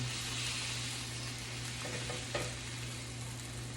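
Steak sizzling in a hot pan, a dense, even crackling hiss held steadily throughout with a low hum underneath and a couple of faint taps, close and unbroken by any voice.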